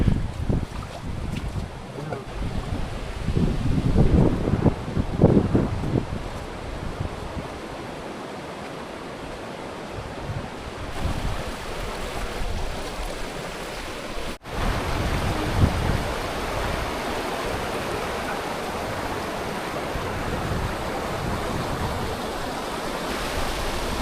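Strong wind blows in steady gusts across the open crater of Mount Pinatubo, roaring and buffeting loudly throughout with no talking.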